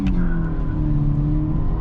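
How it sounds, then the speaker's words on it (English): A 129 hp Mercedes-Benz C180 W203 with a six-speed manual accelerating at full throttle, a short, loud, steady engine drone heard from inside the car, with no talk over it. "Okay, full throttle"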